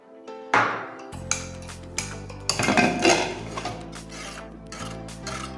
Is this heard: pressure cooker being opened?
yes